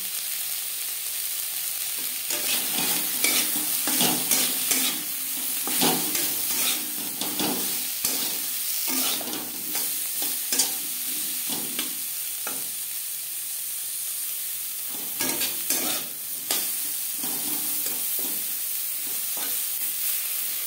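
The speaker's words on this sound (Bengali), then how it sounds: "নারকেলের সাথে ফুলকপি ভাজা হয়ে গেছে" Cauliflower frying with coconut in a pan for a chickpea dal, with steady sizzling and repeated scraping stirs, close and continuous with no talk.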